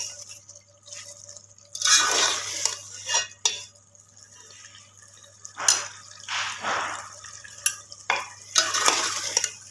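Keema fries in a pan with whole red chillies, green chillies and whole spices, stirred in repeated bursts of scraping and sizzling, close and fairly loud with quiet gaps between the strokes and no speech.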